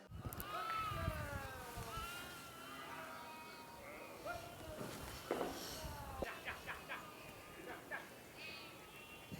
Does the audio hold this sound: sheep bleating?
yes